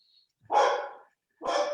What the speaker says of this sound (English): my dogs are barking with great enthusiasm